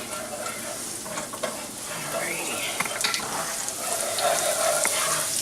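Homemade chicken marsala sizzles steadily in a pan on low heat, a close, even crackle with scattered clicks and utensil scrapes, and no talking.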